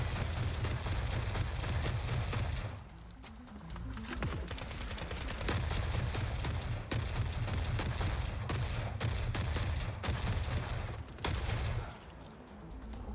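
Sniper and other gunfire in the video game The Forever Winter, a dense, continuous barrage of shots and booms rolling on throughout, with a brief lull partway through, fairly loud and steady with no voices.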